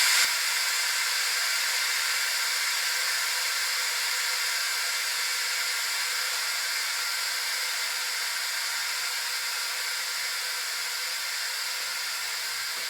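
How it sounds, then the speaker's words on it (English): Continuous steam hissing from an Instant Pot pressure cooker's release valve, a steady airy rush held at even loudness for over ten seconds and fading only slightly, with no talking over it. "it'll take a minute or two just for that steam to release"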